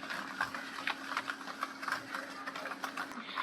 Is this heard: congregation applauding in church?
no